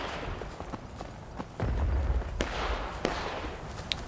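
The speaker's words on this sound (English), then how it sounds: "I hear the gunshots, I hear the gunfire." Scattered musket gunfire in the Civil War video game War of Rights, with several sharp cracks spaced irregularly, some distant and muffled, over a low rumbling background.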